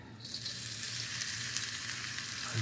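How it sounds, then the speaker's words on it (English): Onions sizzle and crackle steadily in a hot pan, a dense, continuous frying hiss with no talking. "I'm gonna put my onions in here. Yep, hear that?"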